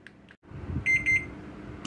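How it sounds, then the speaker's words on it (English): A kitchen timer alarm beeps during bread baking, a short run of bright, evenly spaced electronic beeps over low background rumble. "Let me turn this timer off."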